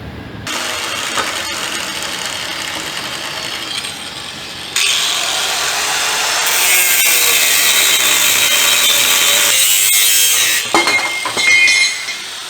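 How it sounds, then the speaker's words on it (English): A power saw cuts metal for the transmission crossmember of a 1940 Chevy coupe, loud and close, its whine rising through a sustained cut, then breaking into short stuttering bursts at the end, with no talk. "So let's get out from under here and go to cutting some metal."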